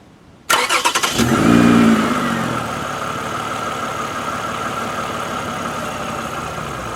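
Car engine cranks briefly with a few rapid chugs, catches, then settles into a steady, close, loud idle with no talk over it.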